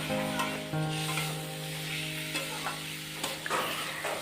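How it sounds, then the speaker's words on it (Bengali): Vegetables being sautéed with spices, including Kashmiri chilli powder, in a pan for a fish curry with drumsticks and potatoes: a steady sizzle with stirring scrapes throughout, close and moderately loud, a faint tonal hum underneath. "এবারে মশলাটার সাথে সবজিটা খুব ভালোভাবে কষিয়ে নিচ্ছি"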